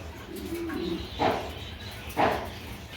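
A white show king pigeon hen gives a soft, low coo, followed by two short, sharper bursts of sound nearby in a quiet setting.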